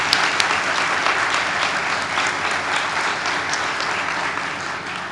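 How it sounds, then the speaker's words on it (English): A room full of people applauds at the 2015 Restoration Academy graduation ceremony, producing a steady, even wash of clapping that carries on at constant loudness for several seconds without pause. "Let's give these women a round of applause."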